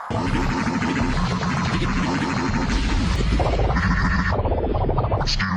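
A voice imitates the Pokémon Registeel's harsh, gargling robotic cry, one sustained buzzy, scratchy call with shifting tones, loud and close.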